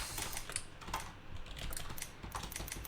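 Fingers type on a computer keyboard in a quick, steady run of light close-up key clicks, with no voices over them.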